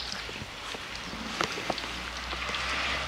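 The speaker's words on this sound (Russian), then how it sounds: "А дождь идет." Rain patters steadily on surfaces outdoors on a Siberian village morning, a soft even hiss with scattered faint drops and a few light knocks.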